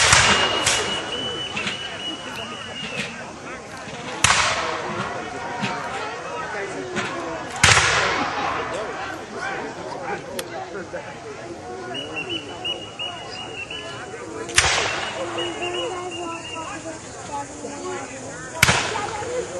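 Musket volleys crack out at a War of 1812 battle reenactment during the siege of Fort Erie, with sharp reports at intervals of a few seconds over the outdoor field while someone narrates throughout.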